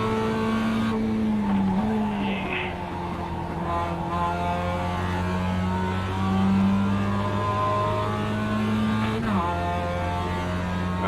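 Race cars in the iRacing sim: a loud close engine drone with steady layered harmonic whine, pitch shifting through gear changes and a brief dip near the end, other cars faintly audible around it.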